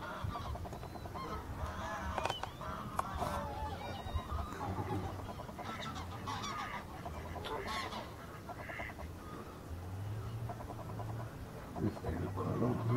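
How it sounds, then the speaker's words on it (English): Two geese at a wetland reserve honk repeatedly at close range, their calls overlapping with clucking from other fowl in a busy, continuous chorus. "Two geese come across here."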